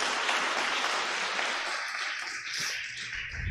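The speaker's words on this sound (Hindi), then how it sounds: "जोर से ताली बजाएंगे हम।" Audience at a Youth Sunday cultural evening claps for a prize announcement, a dense, steady wash of applause that is fairly close and continuous, easing slightly toward the end.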